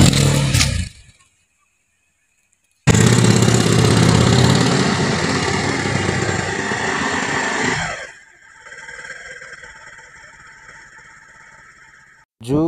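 A motorbike engine revs loudly and steadily for several seconds after a short silence, then drops away to a fainter, receding drone as the bike rides off.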